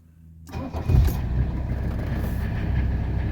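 A 1979 Mercedes 300SD diesel engine cranks briefly and fires up quickly after glow plug warm-up, settling at once into a steady, loud, close diesel idle with no talking.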